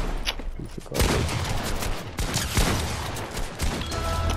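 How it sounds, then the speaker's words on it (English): Gold shotgun blasts in Fortnite during a 3v3 match, several loud close booming shots at irregular intervals over a dense roar of game effects. "That gold shotgun don't miss!"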